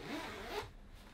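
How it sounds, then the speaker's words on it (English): The main front zipper of a Wantdo ski jacket is drawn in one quick, close rasping pull lasting about half a second, followed by faint handling noise and no speech. "The main front zipper is, so far, of all the jackets that I have reviewed, this is the worst zipper that I have seen so far."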